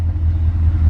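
A 2019 BMW M5 Competition tuned by AC Schnitzer (ACS5 Sport, 720 bhp) settles into a deep, loud, steady engine rumble right after starting, heard close up with no voices.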